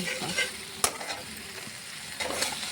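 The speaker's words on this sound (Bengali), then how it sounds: "অল্প চিনি, কষিয়ে নেব।" Seeds of flat beans and lentils are sautéed with a little sugar in a hot pan, giving a close, steady sizzle with stirring scrapes throughout and one sharp clack of the spoon early on.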